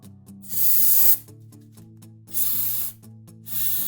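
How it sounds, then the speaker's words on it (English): Brake cleaner aerosol blasted onto a car's brake caliper and rotor in three loud, hissing bursts of about half a second to a second each, close to the microphone, with quiet background tones between them. "then sprayed the brake cleaner on the caliper and the rotor"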